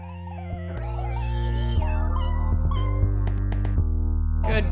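Drawn-out video game cat meows with wavering pitch, loud and close, followed by a rapid series of shorter mews and chirps with no talking.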